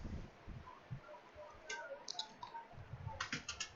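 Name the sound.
typing code on a computer keyboard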